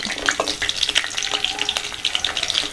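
Four green chillies and five garlic cloves crackle and sizzle in hot oil for peanut chutney, a close, bright frying sound with a little stirring.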